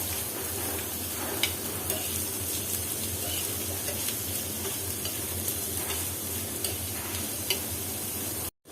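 Chopped onion frying in mustard oil in a pan, a constant close sizzle with light ticking and scraping as it is stirred, ending abruptly.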